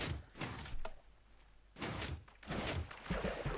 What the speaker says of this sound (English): I'll show you how this door works in a second.